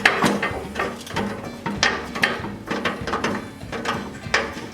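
Self-tapping screws being tightened into the auger housing of an older Toro two-stage snowblower, a series of close metallic ratcheting clicks in uneven bursts with no talk.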